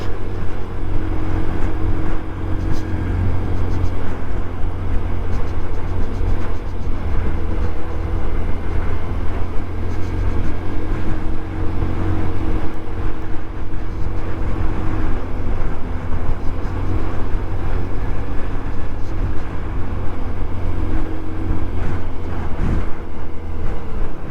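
Steady, loud ride noise from a scooter on the move, a constant low engine drone mixed with wind rush, with no talking, continuing unbroken throughout.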